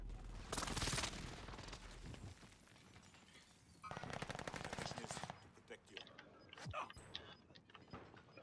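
Video game gunfire: loud bursts of rapid automatic fire and single shots, dense at first, then thinning into scattered sharper reports toward the end.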